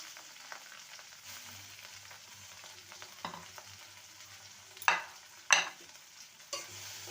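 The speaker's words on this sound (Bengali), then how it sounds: "ভালো করে কষিয়ে নেব আর একটা টমেটোকে কেটে নিয়েছি সেটা দিয়ে দেবো" Spices and chopped tomato being sautéed in a pan for a vegetarian Bengali drumstick curry: a steady low sizzle with occasional sharp scraping stir strokes, no talking.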